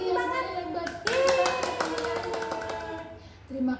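Children in a kindergarten class clap their hands together in a quick burst of rhythmic claps, mixed with a teacher's and kids' voices speaking and chanting over it.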